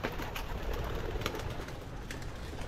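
Pigeons coo softly in a loft, with a few faint wing flutters and rustling against a quiet, steady background.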